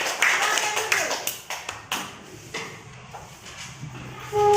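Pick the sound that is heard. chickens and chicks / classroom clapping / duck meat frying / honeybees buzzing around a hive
classroom clapping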